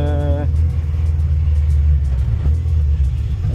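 A Talbot Samba car engine drives along with a steady, loud low rumble that holds throughout, briefly carrying a rising whine at the start, with a voice speaking over it.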